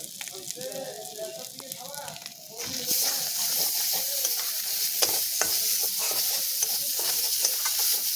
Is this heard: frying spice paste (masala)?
yes